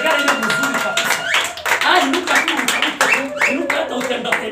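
At a lively church service the congregation claps for the Lord in quick, rhythmic strokes, loud and close, while voices rise and call out over the clapping.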